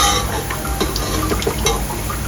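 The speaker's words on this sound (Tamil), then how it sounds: "கரைச்சி வச்ச குழம்பு தூக்கி ஊற்றணும்." Dissolved gravy poured into a fish curry pot, a short steady liquid splash and trickle heard up close with no talking.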